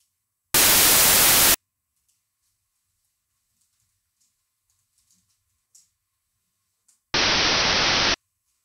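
White noise passed through a sharp band-stop FIR filter that removes much of the midrange, first as a one-second full-band hiss burst, then after near-silence a second one-second burst with a sharply filtered, brighter character.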